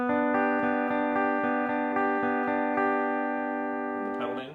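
Slide guitar working through a simple beginner chord exercise with a pedal: a steady sustained chord struck repeatedly in an even rhythm, loud and close, fading at the end.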